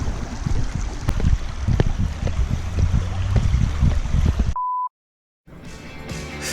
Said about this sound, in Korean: 징검다리를 건너는데 어 물소리가 너무 좋아요